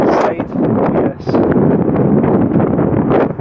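Strong wind buffets a microphone outdoors beside a boat moored on a riverbank on the Norfolk Broads in March, giving loud, gusting rumbles that rise and dip in waves. Faint voice-like sounds may be mixed in.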